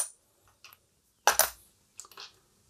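Broken glass pieces from a damaged Nordmende Rigoletto radio are dropped into a plastic container, giving a few sharp clinks and rattles, one louder cluster in the middle, close and with no talk.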